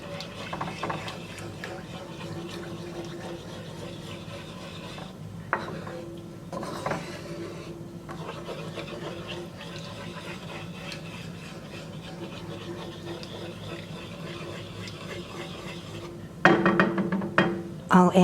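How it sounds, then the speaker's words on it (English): Paprika and red pepper flakes are stirred around in a pan while making marry me chicken, a steady scraping and clinking of utensil against metal running throughout, with a louder rattle near the end. "Now I'll mix this around."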